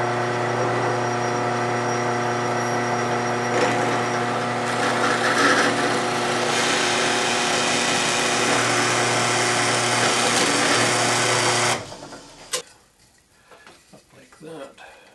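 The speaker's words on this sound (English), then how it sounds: "now I'm just going to drill the holes" A power drill bores holes into a wooden speaker face plate with a template taped onto it, giving a loud, steady whirring drone that cuts off abruptly, followed by faint handling clicks.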